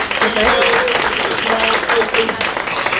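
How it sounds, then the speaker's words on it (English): An audience claps in a short, busy round of applause, with voices heard over and among the clapping throughout. "Can we give them a round of applause?"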